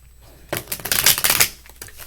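A deck of tarot cards is riffle-shuffled close up after a brief quiet start, a quick burst of rapid flapping and clicking that lasts about a second before trailing off into a few softer taps.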